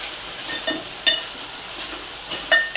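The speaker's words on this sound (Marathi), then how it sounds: "बघा त्याला हे तेल फुटायला लागलं वाटणाला" Masala paste for a sprouted moong bhaji sizzles and splutters steadily in hot oil as it is sautéed, a dense close crackle with a few sharper pops and spoon scrapes and no talk.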